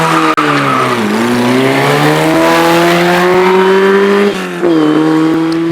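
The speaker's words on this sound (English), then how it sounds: "Now it's Andy Tippett with the Formula Ford Russell Alexis" A Formula Ford Russell Alexis single-seater racing up the Shelsley Walsh hillclimb, engine loud and near, revving in rising sweeps with brief drops at gear changes, one sharp click early on, sustained throughout.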